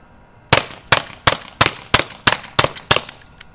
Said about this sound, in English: now we're gonna drop it down, and I'm gonna shoot right there.